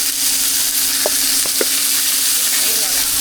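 Meat fries in a pan for Chinese street-food cakes, giving a loud, continuous close-up sizzle with a few brief clicks and taps from the cooking.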